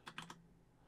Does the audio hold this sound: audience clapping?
no